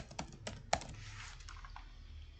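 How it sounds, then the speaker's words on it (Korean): Computer keyboard keys are typed in a quiet room, giving a handful of soft, irregular clicks and taps close by, faint overall. "자꾸 선생님이 키보드를 잘못 눌러서 복사하기가 되는데"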